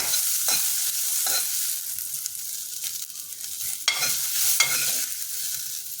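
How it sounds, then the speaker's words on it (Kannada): Turmeric frying in a pan for a bean gravy, a continuous close sizzle broken by several sharp scraping stirs of a spoon against the pan, with no talking. "ಅರಿಶಿನ ಹಾಕ್ಕೊಂಡು ಸ್ವಲ್ಪ ಹುರ್ಕೊಳ್ತೀನಿ."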